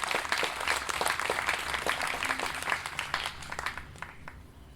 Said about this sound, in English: So can we give all of those people a massive round of applause,